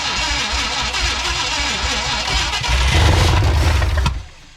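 An old Ford F100 pickup, a 1969 or 1971 truck long abandoned, cranks steadily with a rhythmic starter whir, then catches and roars louder for a moment before cutting out abruptly.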